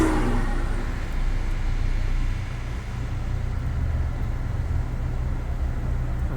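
A car driving through the streets of Little Havana in Miami, with a steady low engine and road rumble and broadband tire noise that stays even throughout.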